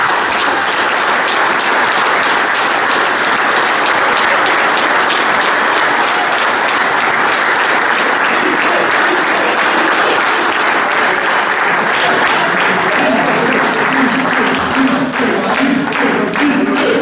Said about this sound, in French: les remerciements et applaudissements, ils doivent être pour toi